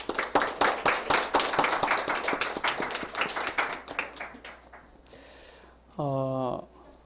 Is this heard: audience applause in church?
yes